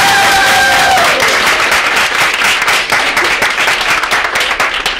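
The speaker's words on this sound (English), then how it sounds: "Give them a round of applause." Round of applause from a school audience for a coach during Teacher Appreciation Week, loud dense clapping from many people that rises quickly and holds steady, with a brief tone fading in the first second.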